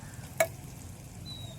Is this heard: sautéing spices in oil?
yes